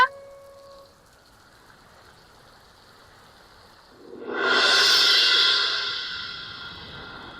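Rain falls in a cartoon, starting as a faint steady hiss and then swelling into a loud, dense, broadband wash of rainfall around the midpoint that slowly eases.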